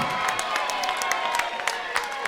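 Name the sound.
crowd applause and cheering for two female fighters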